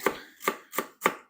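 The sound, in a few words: knife cutting celery thinly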